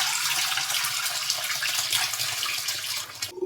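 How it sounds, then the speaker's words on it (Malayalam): Homemade orange wine pours steadily into a container in a near, continuous liquid stream with a bright splashing texture, running unbroken for about three seconds before stopping abruptly. "നമുക്കിത് കുറേശ്ശായിട്ട് എടുത്തിട്ട് ഒഴിക്കാം."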